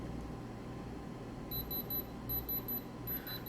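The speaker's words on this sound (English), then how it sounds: "Let's see if my crazy little diamond tester" Electronic diamond tester emitting short, high-pitched repeated beeps in quick bursts, fairly faint over a low room hum.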